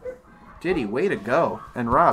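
Dogs bark and whimper in short yelping bursts, close and loud, with someone talking over them.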